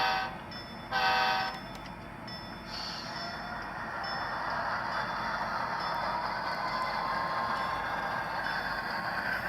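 A model F unit locomotive crossing a bridge rumbles steadily along with a continuous mechanical hum and faint rail clatter, preceded by a short horn-like toot near the start.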